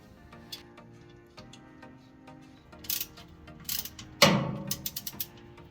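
A hand ratchet tightens the bolts on a washing machine motor, giving steady light clicking that builds into faster, louder bursts of ratcheting near the end.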